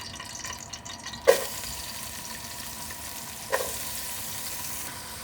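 Onions fry in oil in a deep cooking pot while a masala for chicken macaroni is started, giving a steady soft sizzle with two brief clatters of a spoon against the pot and no talking.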